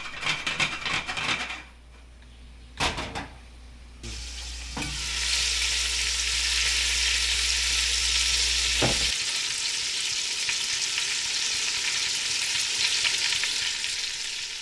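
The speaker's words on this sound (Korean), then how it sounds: "먼저 들기름을 충분히 넣은 다음 냄비째 흔들어 끓이듯 볶습니다" Frying hisses and sizzles loudly as a whole snakehead fish fries in perilla oil in a pot, after some clattering and knocking, then a continuous, steady sizzle fills the rest, close by.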